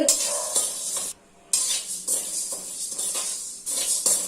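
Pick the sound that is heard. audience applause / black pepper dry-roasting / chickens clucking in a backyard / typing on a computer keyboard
black pepper dry-roasting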